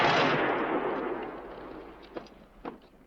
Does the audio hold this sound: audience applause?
no